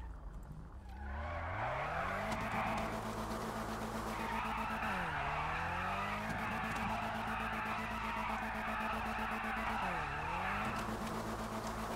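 A sports car in a racing-style video game, a GTR, drives with a steady loud engine drone while its tires squeal and skid repeatedly, the pitch dipping and rising through several slides over twelve seconds.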